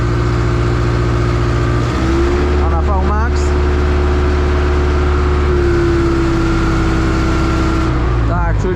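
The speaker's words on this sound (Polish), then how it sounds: "już czuć, że ten silnik jest złabiony" A concrete mixer's engine runs with a steady, low drone and constant mechanical hum, sounding weak and strained, and brief voices come through faintly over it.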